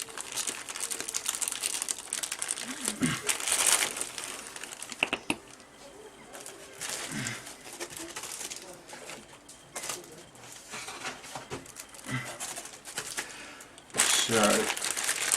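Plastic parts bag for a Jordan Yamaha 192 F1 car model crinkles and rustles as it is handled, in irregular bursts with someone talking at times.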